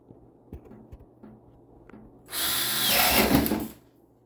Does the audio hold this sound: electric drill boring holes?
yes